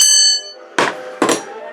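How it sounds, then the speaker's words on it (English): A metal bell struck twice by a robotic bell striker, mounted on rubber washers so it rings clearly; two sharp, loud strikes follow the fading tail of an earlier ring, each blooming into a bright sustained tone. "So there's special rubber washers on there to keep the bell spaced so it rings clearly."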